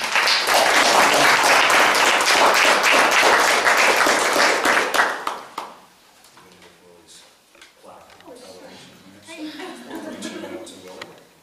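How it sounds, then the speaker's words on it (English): Audience at a school board of education meeting gives hearty applause for an award-winning inventor, loud dense clapping for about five seconds that tapers off into faint room murmur and scattered voices. "Let's have a round of applause."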